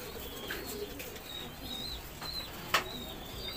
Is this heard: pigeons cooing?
yes